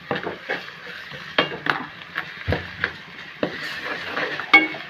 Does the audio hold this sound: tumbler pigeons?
no